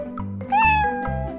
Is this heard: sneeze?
no